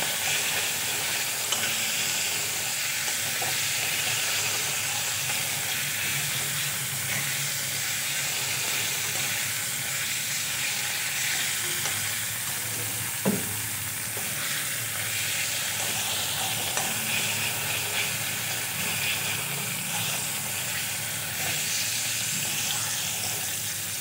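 Chopped tomato frying with onions in a pan, a loud, continuous close sizzle and hiss that holds steady throughout, with a brief scrape partway through and no voices.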